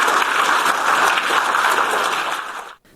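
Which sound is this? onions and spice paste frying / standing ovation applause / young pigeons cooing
standing ovation applause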